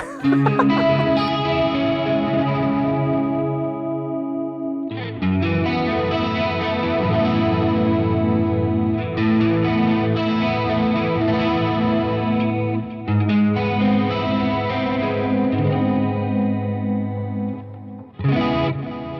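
Electric guitar chords through a Nux Trident multi-effect pedal ring out with shimmering chorus and effects, several sustained strums with brief breaks between them, played loud and close.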